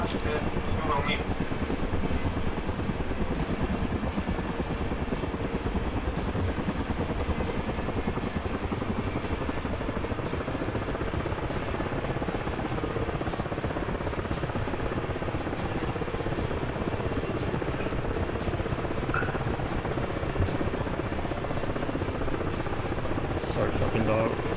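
Helicopter rotor and turbine drone from the DCS flight simulator game during a night flight, a steady dense whir with rhythmic blade chop running throughout, loud and continuous.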